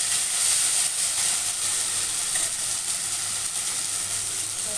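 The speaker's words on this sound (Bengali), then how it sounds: "আদা বাটা দিয়ে দেবো।" Ginger paste sizzles in hot oil with frying potatoes, a continuous close hiss with faint crackles and occasional stirring, no voices.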